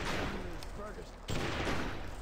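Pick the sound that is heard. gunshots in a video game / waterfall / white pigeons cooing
gunshots in a video game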